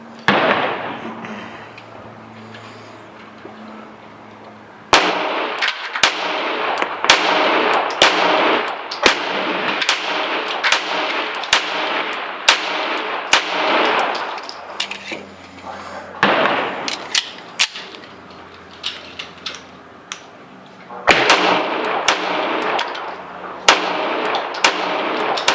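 Custom-built 1911 pistol firing at an outdoor range, many loud sharp shots in quick irregular strings with brief pauses between groups, each crack followed by a short ringing tail.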